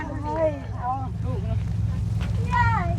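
Strong wind by the sea at a seaside park in Thailand, with mountains behind and the sea in front, roars as a steady low rumble across the microphone under people talking excitedly.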